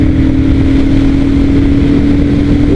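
Royal Enfield Super Meteor 650 motorcycle engine under way at speed, a loud, steady, continuous roar with a constant tonal drone and wind rush, with no pauses.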